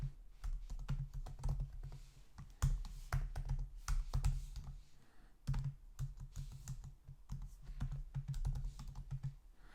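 Computer keyboard typing while writing Elixir code, with steady bursts of close, crisp key clicks and short pauses between runs of keystrokes.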